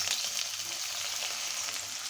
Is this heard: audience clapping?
no